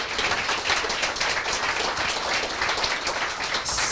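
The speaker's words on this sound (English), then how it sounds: "And I think that deserves an applause" An audience at a tech panel discussion on AI applauds, a dense, steady burst of clapping from a room full of people, fairly loud and without talk.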